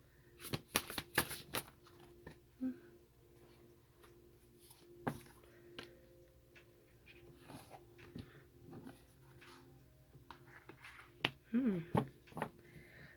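A tarot deck shuffled and drawn up close: a quick burst of riffling snaps at the start, then scattered soft taps and slides as cards are handled and laid out, with another flurry near the end.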